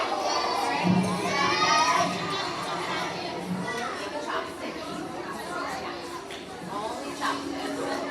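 Children shout and cheer as a crowd at an elementary school fun-day game show, a loud continuous din of young voices with excited bursts, with an adult voice talking over it.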